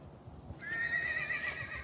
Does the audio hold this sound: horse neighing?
yes